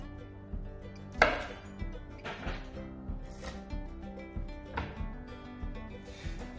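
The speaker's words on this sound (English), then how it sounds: "So, first thing you do is cut off the stems." A knife chops through chilli stems on a board, giving several separate cuts spaced across the stretch, one sharper and louder than the rest, over faint kitchen background with no talking.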